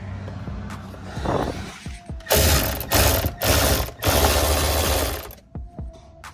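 Ratchet with an extension working a hidden 10mm bolt up inside the fender while a rear bumper comes off a Toyota Sequoia: bursts of rapid close clicking, several runs separated by short pauses, no talk.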